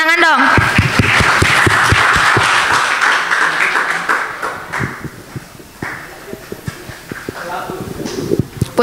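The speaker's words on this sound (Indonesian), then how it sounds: "Tepuk tangan dong." Scattered clapping from a school audience at an orientation session, uneven taps spread across the clip and mixed with voices talking over it.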